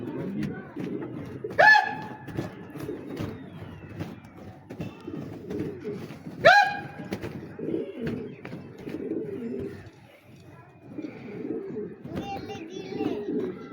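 Pigeons coo in low, throaty murmurs nearby, joined by a couple of sharp chirps from other birds.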